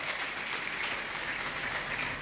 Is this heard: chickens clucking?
no